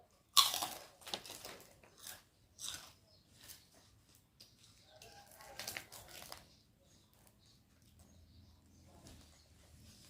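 Someone chews crunchy pork rinds close to the mic, with a sharp first bite and then irregular soft crunches over several seconds in a quiet room.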